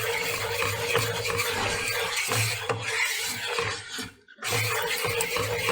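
Kashmiri red chilli cooking in butter for dal makhani, a continuous dense sizzle with rhythmic scraping strokes of a spoon, near and loud, briefly dropping out once before resuming.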